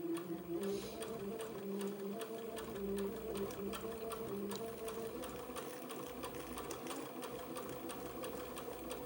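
Sewing machine stitching small seams on a slip for a baptismal gown, a steady fast mechanical whir with rapid needle ticks that runs throughout at moderate volume, with no talk.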